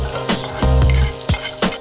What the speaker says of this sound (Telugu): నెక్స్ట్ మళ్ళీ పాలకూర ఫ్రై చేసుకుందాం